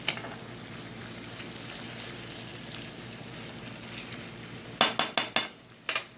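Flank steak fries in a pan with a soft, steady sizzle, followed near the end by a few sharp metallic clinks of utensils against the pan.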